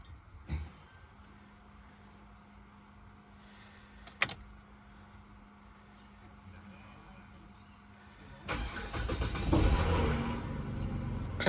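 Ford FG Falcon engine cranking and firing up after an electrical fault, with a few quiet clicks and a brief sharp sound before the engine catches near the end and runs loudly up close.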